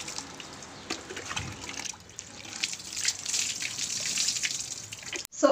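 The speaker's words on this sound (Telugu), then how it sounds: "బేబీస్కి ఇంత హైట్ నుంచి పోయకూడదు నార్మల్గా వాటరు" Water is poured from a height over a baby's head during a bath with a baby shower cap, giving a faint, uneven trickling and splashing that rises and falls over a few seconds.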